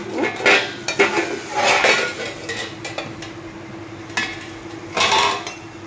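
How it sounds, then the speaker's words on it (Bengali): Clattering of metal kitchenware as a lid goes onto a pot of pineapple boiling for chutney and a bowl is lifted, several loud clinks and scrapes in bursts with quiet gaps between. "ঢাকা দিয়ে দিব আনারসটা সিদ্ধ হওয়ার জন্য। বাটিটা উঠিয়ে দেব।"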